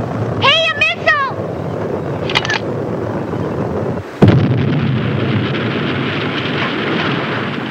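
A missile explosion arrives as a sudden loud boom partway through and leaves a long, steady rumbling roar. Whistling squeals and a brief voice come before it.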